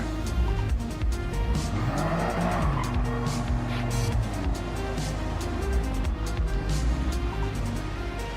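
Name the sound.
tire squeal from attempted burnout, Toyota GR Cup racing game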